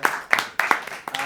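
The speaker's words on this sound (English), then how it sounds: "I'm going to give another round of applause to all of our guests." Podcast guests get a short round of applause from a small group, a few crisp, close claps in quick uneven bursts.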